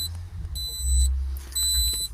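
Two sustained electronic beeps from a 4-in-1 oil, water, volts and fuel gauge in a Simca Aronde, each about half a second long, sound close by over a low engine-like rumble, one after the other.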